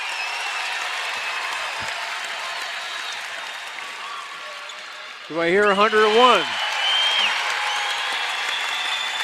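A packed arena roars and applauds at a WNBA game, Connecticut Sun hosting Las Vegas Aces on opening day, a loud continuous crowd wash while a voice speaks briefly over it midway.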